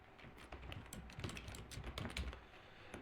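Rapid, steady keystrokes on a computer keyboard, quiet and close, forming a continuous stream of light clicking with no voices.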